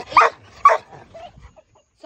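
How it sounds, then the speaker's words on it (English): Dogs barking nearby, with a white dog among them: two sharp, loud barks in quick succession, followed by fainter yips and whimpering, and a short bark at the end. "Sorry guys, the dogs are barking."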